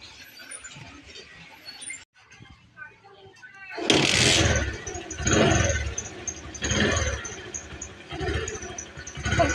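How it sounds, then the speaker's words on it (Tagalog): A tricycle motorcycle with a manual kick starter is kicked over, and the engine catches and runs at a steady, rough idle, loud and close, after a quiet start with a few clicks. "kailangan po nating tadyakan yung starter o kick starter."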